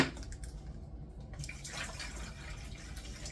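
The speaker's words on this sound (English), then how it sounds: "I'm just gonna take this area and I'm gonna fill it up with water." Water is poured from above into a hydroponic garden reservoir, a brief rushing splash that swells and then settles into a steady trickle, close and moderately loud.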